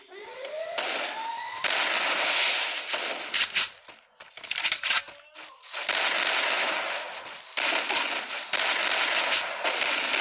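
Bursts of rapid gunfire ring out in a Free Fire-style squad match, loud and dense, separated by brief gaps, with short flurries of single shots between the sustained volleys.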